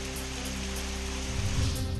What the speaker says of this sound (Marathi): वाशीमध्ये काही ठिकाणी वादळी वाऱ्यासह अवकाळी पाऊस